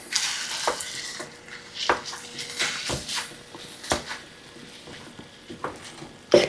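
Thawed ground beef is mashed and broken up in a pan, giving soft sizzling with repeated scraping and tapping strokes at an uneven rhythm, close and moderately quiet.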